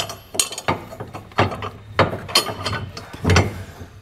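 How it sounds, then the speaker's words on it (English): Metal hardware clanking and ratcheting as a bolt is pushed through the bracket of a B and W Turnoverball gooseneck trailer hitch on a 2022 Ford truck, with several close, sharp clinks and knocks in an irregular rhythm and no talk. "align these to where we can pass our bolt through"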